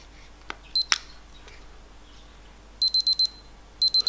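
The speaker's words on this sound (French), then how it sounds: "c'est un minuteur tout simple." A fake red airsoft bomb prop with a simple electronic countdown timer gives a bright double beep, then two short bursts of four rapid beeps, clear and close over a quiet room with a few clicks from its buttons.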